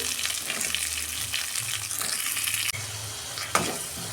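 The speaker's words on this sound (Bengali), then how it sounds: "পেঁয়াজটা আমি ভেজে দেবো" Onions frying in a pan for a Bengali-style chicken tikka curry, a constant loud sizzle with stirring scrapes and a couple of sharp utensil knocks, no talking.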